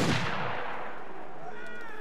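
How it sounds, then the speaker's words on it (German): Gunfire in the Assassin's Creed Unity video game: a single loud, booming shot with a long reverberant decay, heard alone at close range. "Spare lieber mal die paar Schüsse, die wirst du noch brauchen."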